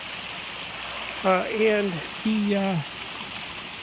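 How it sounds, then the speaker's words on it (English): A flowing stream gives a steady, even rush of water throughout, with a voice speaking briefly over it in the middle. "it's a beautiful stream."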